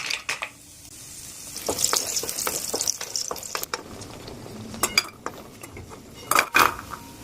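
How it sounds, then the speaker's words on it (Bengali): Bori lentil dumplings fry in oil in a home kitchen pan, with sharp metallic clinks of utensils and pots over a soft, steady sizzle, plus scattered louder clatters toward the end. "তেল দিলাম এ দেখো আগে আমি বড়িগুলো ভেজে নেব"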